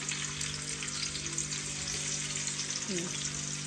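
Chopped onion fries in hot oil in a pan with a steady, even sizzle and hiss, close and continuous, plus a faint brief tonal sound near the end.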